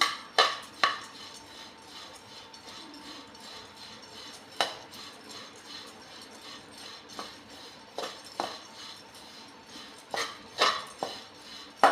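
Metal utensil scraping and clinking against a wok in irregular bursts, with a soft rustle of wheat grains being stirred as they roast between strikes.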